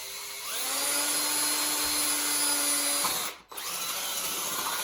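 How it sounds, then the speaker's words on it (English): A power drill whines steadily at close range for about three seconds drilling out a knockout in PVC conduit fitting, stops abruptly, then a softer whirring continues. "I'm just going to drill it out."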